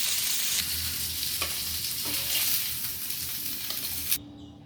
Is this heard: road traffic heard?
no